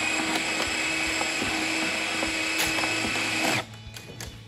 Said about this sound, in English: It is varial speed, so the more you pull the trigger, just like any drill, it'll go faster or slower.